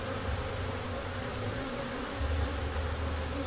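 Honey bees buzz at an open hive during an inspection, a dense, steady, close drone that fills the whole stretch with no voices.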